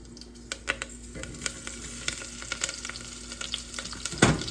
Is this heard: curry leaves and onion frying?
yes